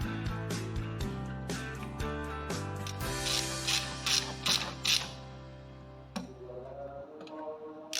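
Ratchet wrench clicking as it loosens a bolt during a light engine tune-up, a run of quick metallic ticks up close, with a low steady hum underneath that cuts out near the end.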